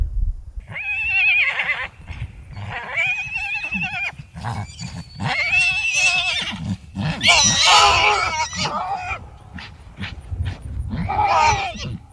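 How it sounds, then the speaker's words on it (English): A pony whinnies and neighs repeatedly in loud, harmonic bursts outdoors at a campsite during stormy weather, with scattered thumps and scuffs between calls and no talking. "there's a pony running"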